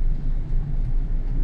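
Car interior while riding: a continuous low, even engine and road rumble fills the cabin, with no voices.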